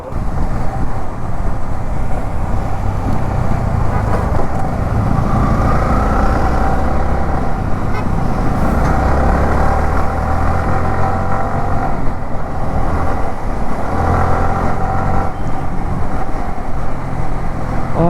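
A group of seven motorbikes rides at night through city traffic near Wilson Garden Road, making a loud, steady engine drone and road rumble that continues without pause, with swelling passes from nearby vehicles.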